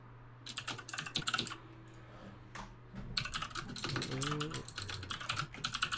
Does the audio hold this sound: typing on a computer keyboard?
yes